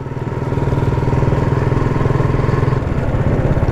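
A motorcycle rides along near a temple by a road in Ranong, its engine a steady, loud mid-pitched drone with a fast pulsing rhythm throughout, no talk over it.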